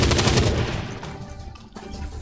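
A video-game gunshot on a flank attack: a burst of loud close gunfire at the start, trailing off into a rattling decay, with a couple of quieter follow-up cracks.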